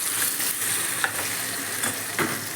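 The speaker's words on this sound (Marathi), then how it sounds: "आता आपण ह्याला हलवायला सुरू करूया। परतून घ्यायचं हे छान मस्त।" Raw mango chutney with sugar sizzles loudly in a pan while being stirred and sautéed, with a constant frying hiss and a few soft scraping strokes, no voices.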